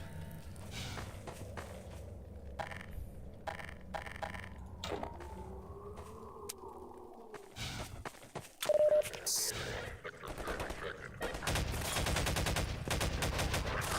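Gunfire in a video game, scattered sharp shots and short bursts amid shuffling and movement noise, with a louder cluster of rapid firing near the end.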